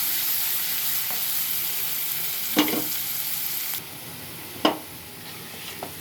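Ingredients for a chicken gravy curry fry in oil with a steady, close hiss of sizzling that drops in level partway through, broken by a couple of sharp stirring knocks.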